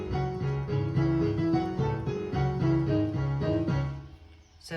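A piano plays a theme with both hands together, low chords under a repeating melody in an even rhythm, close and steady with no talking.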